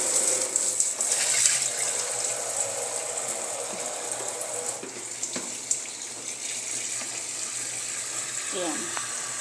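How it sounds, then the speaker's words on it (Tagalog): Water runs from a household tap in a steady soft hiss, fairly faint and continuous, with a few small clicks and knocks near the end. "magdadagdag tayo ng tubig"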